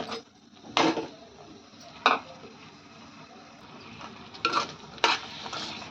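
Grated fresh coconut being stirred into a sweet mixture in a pan for coconut vadi, with a few sharp scraping clanks of the spoon against the pan over a soft, steady background.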